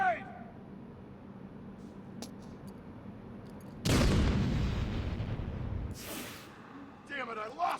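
A grenade blast in the video game Batman: Arkham City, a loud, close boom with a roaring tail lasting about two seconds, followed by a second sharp burst, amid game chatter and voices.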